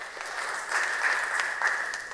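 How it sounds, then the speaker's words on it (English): Audience applause in a church question-and-answer gathering, steady dense clapping filling the whole stretch at moderate level with no voices over it. "Give her a round of applause."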